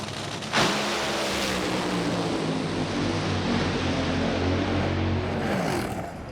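A Top Fuel dragster on a qualifying run at East Coast Thunder in Sydney bursts into a loud, harsh engine roar that holds steady for several seconds, then eases off near the end.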